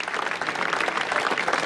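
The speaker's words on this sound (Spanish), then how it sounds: "Y los aplausos no bajaban" Steady applause from a studio or hall audience at a Spanish-language news broadcast, a dense, even wash of clapping filling the whole moment with no voices.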